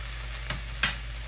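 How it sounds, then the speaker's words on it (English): A pan deglazed with ham stock for a pork roast braise is stirred over a steady background hiss, with two brief scrapes of the spoon, the second louder. "Give this a quick stir around."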